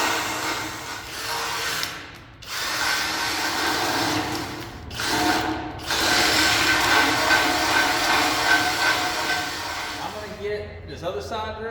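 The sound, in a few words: drilling holes in gooseneck trailer deck for marker lights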